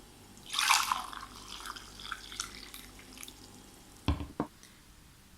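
Freshly boiled hot water is poured from a jug into a mug, giving a brief, quiet splash that thins into scattered drips, followed by a couple of soft knocks.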